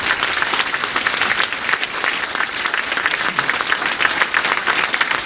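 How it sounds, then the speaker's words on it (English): Dense standing ovation from a crowd, continuous loud applause with many overlapping claps filling the space without letting up. "Oh, he gets a Standing ovation."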